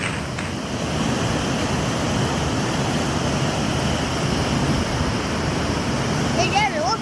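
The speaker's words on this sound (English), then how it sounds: "There's one raging river." A raging river rushes in a loud, continuous broadband roar of churning water, steady throughout, with a brief high chirp near the end.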